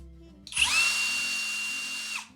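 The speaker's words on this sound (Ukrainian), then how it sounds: "Тобто при натисканні на патрон в нас вмикається наш режим удару." A Kraissmann 132 E-ABS-BL 20UL impact drill in hammer mode revs up and runs steadily for about two seconds with a harsh, buzzing hammering whine, then stops.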